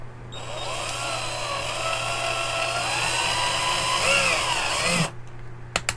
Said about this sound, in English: All right, we got our drill. Let's go ahead and give it a test.